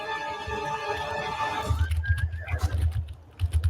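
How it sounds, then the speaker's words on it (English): A horse neighs in a video game trailer shown at Gamescom Opening Night Live 2023, a long, loud whinny followed by heavy low thumps and rumbling effects. "I thought that horse was going to sprout wings."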